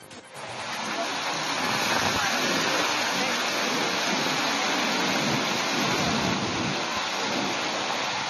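A dense, constant roar of heavy rain pouring down without a break, loud and even throughout.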